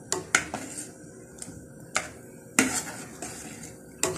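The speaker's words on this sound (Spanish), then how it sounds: "vamos a mover para que se derrita o disuelva nuestra chancaca" A spoon stirring chancaca as it melts in a pot, sounding as sharp scraping clinks against the pot's side in an irregular rhythm, close and fairly quiet.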